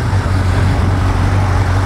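A used, near-new Kawasaki Z1000 motorcycle engine runs at a steady idle, a loud, continuous low rumble with an even hum and broadband roar, close by and without speech.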